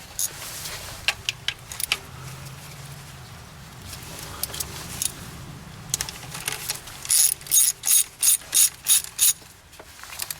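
A ratchet fitted with a deep 19mm socket clicks in a quick run of sharp, loud bursts as a bolt is tightened on a 1991 Mazda Miata MX-5, following quieter scattered clicks and handling noise.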